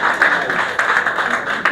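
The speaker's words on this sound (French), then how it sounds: "je m'en vais vous demander d'applaudir qu'une personne avant de parler" A theatre audience at a ceremony in Senegal applauds, a dense steady wash of many hands clapping throughout, with a few sharper bursts standing out.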